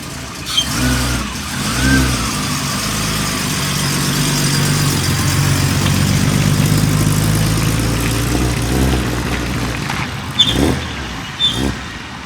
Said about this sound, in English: you can hear that ProtunerZ throttle body is still whistling